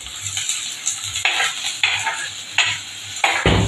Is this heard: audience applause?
no